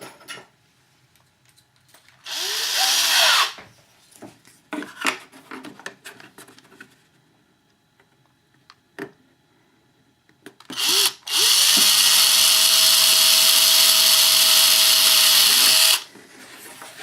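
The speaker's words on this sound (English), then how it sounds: "I'll just drill the clearance hole through the overwing fairing" A power drill boring a 2mm clearance hole through an aircraft overwing fairing runs in a short whirring burst, then a longer steady spin of about five seconds, with quiet handling clicks between.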